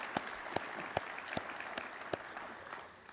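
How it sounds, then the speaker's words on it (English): Audience applause at a naval sea services expo keynote, heard as a faint, thin patter of clapping with a few sharper individual claps standing out at irregular intervals. "So how about a round of applause for Bob and Pete?"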